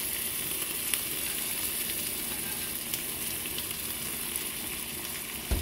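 Cooked chickpeas hit a hot pot and fry with a steady, even sizzle, close and continuous, with a few faint clicks and a stirring clatter near the end.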